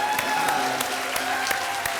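Audience clapping on a TV show, rhythmic synchronized claps with periodic sharp beats over a steady musical tone, moderately loud throughout.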